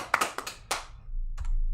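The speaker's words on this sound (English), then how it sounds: "My wife is helping me clap." A handful of people clap hands at a high school band senior night: a few sharp, separate claps near the start, a brief pair later, then a low steady hum.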